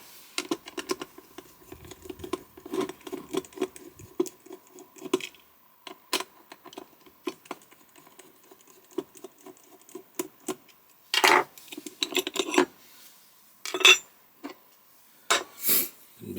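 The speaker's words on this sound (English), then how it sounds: "first I'm going to take the bolt off the back" Small metallic clicks, scrapes and taps come from unscrewing a bolt from the back of a Rosengrens RKL 10 safe lock, close and intermittent, with a few louder knocks near the end and no talking.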